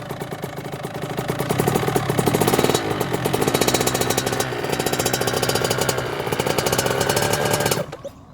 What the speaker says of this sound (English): And that's how you stall it.